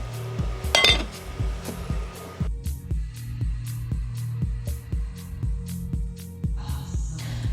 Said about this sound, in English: Right, let's pop this in the oven.